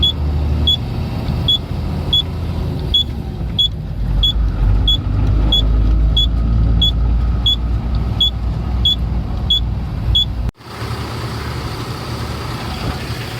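A truck idles and creeps along while pulling over to park at a warehouse, a steady low engine drone with a regular high beeping tick, then a sudden cutoff to quieter cab noise near the end.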